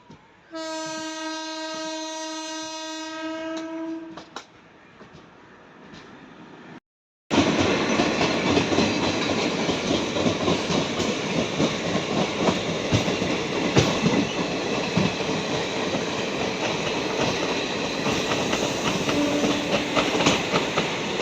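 A train horn sounds loudly at first, then a brief pause before a passing express train roars close by near Kollam Junction, Kerala, with steady rumbling and clattering wheels.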